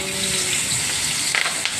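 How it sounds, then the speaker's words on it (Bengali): Fish fries in hot oil in a home kitchen, making a steady close hiss and sizzle with a few quick spattering crackles near the end, heard alone without talk. "মাছ ভাজছি, তেলটা গরম হয়ে গেছে"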